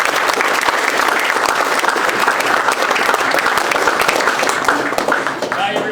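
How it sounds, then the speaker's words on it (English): Sustained, loud audience applause fills a launch party as Walmart's President and CEO Doug McMillon is introduced, a dense, steady wash of many hands clapping that continues without a break. "Please give a warm round of applause for Doug McMillon, our President and CEO of Walmart"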